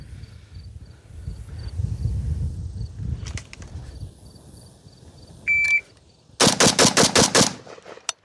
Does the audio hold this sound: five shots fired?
yes